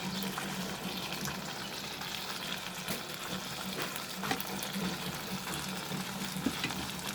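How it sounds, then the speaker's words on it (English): Fried vegetables stirred into a gently simmering restaurant-style mixed vegetable gravy, giving a steady close sizzle and bubbling with soft scraping stirs throughout, no talk. "I'm going to add this fried vegetables to this"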